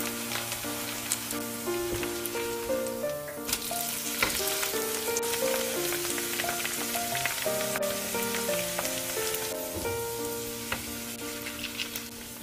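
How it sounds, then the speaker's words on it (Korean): Carrot pancakes fry in oil in a pan over medium-low heat, giving a steady close sizzle with crackling pops and no voices. "뒤집어 주시고 불은 중약불로 줄여서 약 3분 30초간 익혀주세요."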